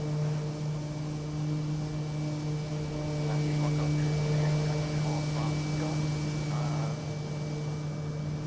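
Steady propeller-engine drone of a Kodiak plane in Microsoft Flight Simulator 2020, a constant low hum with a high whine, continuous and close throughout, with faint talk rising briefly in the middle.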